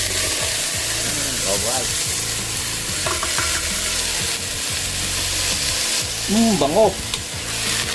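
Wild jungle chicken (labuyo) meat hits a pan of browned onions and chili and fries with a loud, steady sizzle and stirring scrapes, while someone speaks briefly and a few voiced sounds come through.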